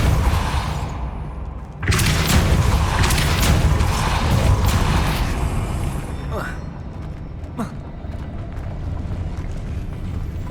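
The Depulso spell fires in Hogwarts Legacy with a sudden loud burst of booming force, followed by a sustained rushing roar and two quick whooshing sweeps as the effect fades.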